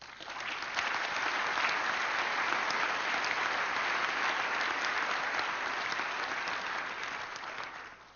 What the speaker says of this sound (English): So maybe another applause for them.